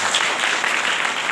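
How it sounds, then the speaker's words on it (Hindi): An audience claps steadily and loudly during a Christ the King feast sermon in a Hindi church service, a dense continuous applause with no voices over it. "जोरदार ताली बजा दीजिए उनको।"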